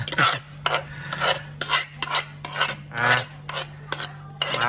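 A utensil scrapes food out of a mortar used for pounding fish, a series of short rasping strokes, close and distinct, repeating in an uneven rhythm over a steady low hum.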